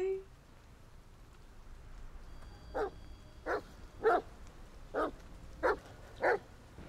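A dog in the video game The Medium barks six times at fairly even intervals, each bark short and clear over a low, quiet ambient background.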